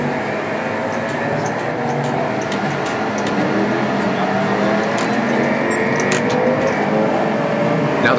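Race car engines from Gran Turismo on a Sony PlayStation, Mercedes-Benz cars in a virtual race: a steady, loud, continuous engine drone with rising whines of several cars accelerating, filling the whole stretch without talk.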